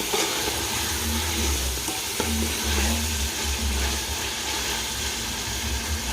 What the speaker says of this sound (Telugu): కలపకపోతే కింద మసాలా అంటుకోబోద్దండి, అందుకని కలుపుతూ ఉండాలి